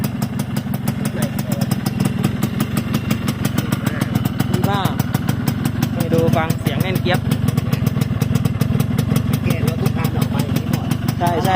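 A Yamaha RXS115 motorcycle engine idles up close with a fast, even thumping rumble, while someone talks over it throughout.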